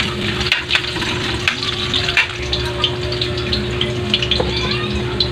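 Ginger frying in hot oil at the start of a chicken dish: a loud, continuous close sizzle with faint stirring scrapes throughout, with no talking.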